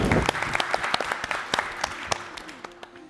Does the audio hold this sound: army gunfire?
no